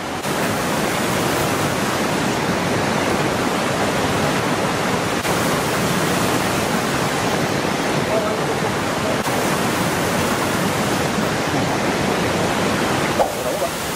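A waterfall in Bali roars as a steady, dense wash of rushing water that stays loud and close for the whole stretch, with a few faint voices underneath.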